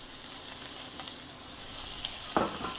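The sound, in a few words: food sizzling in a frying pan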